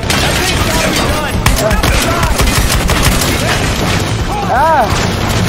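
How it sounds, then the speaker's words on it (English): A minigun roars in rapid, sustained bursts in the video game Battlefield Hardline, loud and close, mixed with booms, other gunfire and whooshing effects during a chaotic firefight. "Nick, that thing's got a minigun."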